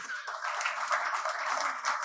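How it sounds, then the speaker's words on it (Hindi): Audience applause at a live Hindi comedy poetry show, a steady, fairly thin patter of clapping that holds evenly for about two seconds without much swell. "तालियां आपकी कमजोर है"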